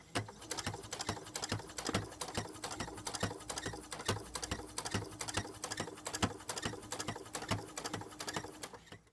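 A sewing machine stitches around the edge of a fabric headband with elastic inside, running as a continuous, rapid mechanical patter with an even, ticking rhythm close by.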